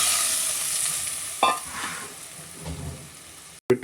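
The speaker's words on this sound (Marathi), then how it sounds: "आपलं जे ताक आणि कढीचं मिश्रण आहे, म्हणजे ताक ज्याची आपण कढी करणार आहे ते सोडायचं आहे" A buttermilk and kadhi mixture goes into a hot, sizzling pan: a steady loud hiss with a sharp splashy burst, then a brief cut before more crackling bursts.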